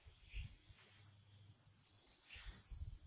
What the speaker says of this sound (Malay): Cengkerik memanglah ada ni kat dalam bahagian belakang kawasan hutan ni